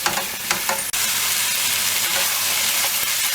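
Lamb pieces searing in a hot pan for a Rajasthani laal maas curry, a loud steady sizzle with a brief stir at the start, close and continuous with no talk.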